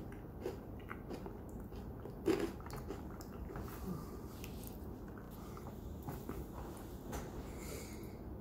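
Crisp bites into a thin, fudge-dipped mint cookie with a chocolate coating, one sharp crunch standing out amid faint, continuous chewing and mouth noise, close to the mic with no talk.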